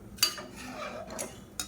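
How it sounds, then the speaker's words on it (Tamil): A pressure cooker lid is being closed on a mutton biryani, with a few quick, light metallic clinks and a soft scrape of metal close by. "நல்லா கலந்து விட்டுட்டு குக்கரை மூடிடலாம்."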